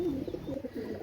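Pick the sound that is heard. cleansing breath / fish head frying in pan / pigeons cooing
pigeons cooing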